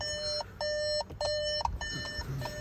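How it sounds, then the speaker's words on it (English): Electronic beeps sound from a 2022 VW Taigo's hazard lights in a steady on-off rhythm, several evenly spaced tones, close by and fairly quiet. "the car is persistent with beeping"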